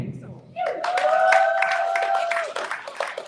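A crowd applauds and cheers a super heavyweight boxer at an official weigh-in, clapping swelling into a loud, steady burst over a sustained tone, with people talking over it.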